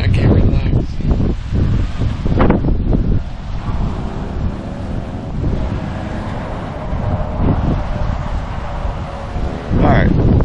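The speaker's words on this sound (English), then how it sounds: "I don't know if you can hear me, but it's a little windy." Wind buffets the microphone outdoors at a Florida winery, loud rumbling gusts rising and falling throughout, with brief voices in the background.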